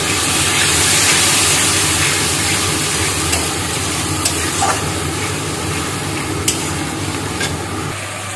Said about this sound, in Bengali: আমার মশলাটা প্রায় তেল ছেড়ে দিচ্ছে মানে অনেকটাই কষানো হয়ে গেছে